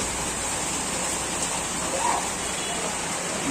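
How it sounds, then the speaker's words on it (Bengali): Light rain falls during a long-distance bicycle ride on a flooded rural road in Bangladesh, heard as a steady, even hiss of drops with no voices. "একটু একটু বৃষ্টি পড়ছে"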